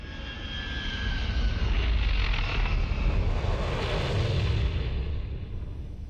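A spacecraft sets down in the Star Wars: The Old Republic video game, a steady, loud roar of engine thrust that swells and holds for several seconds before easing slightly, with no voices.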